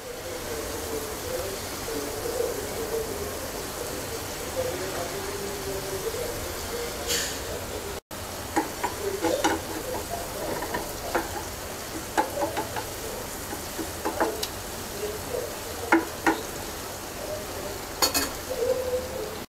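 Small tatkini fish with chopped tomato and coriander cook in a pan over low heat, giving a steady soft sizzle broken by irregular utensil scrapes and clinks, close and moderately loud, with a short pause partway through.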